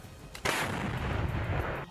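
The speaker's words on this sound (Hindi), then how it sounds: "वीडियो में रूसी सेना ने अपनी इस ताकतवर तोप से यूक्रेन के ठिकाने पर पहले एक गोला दागा" A single loud boom from a Russian 2S7 Malka self-propelled artillery gun firing a shell, a sharp blast followed by a long rumbling roar that fills the rest of the clip, with no voices.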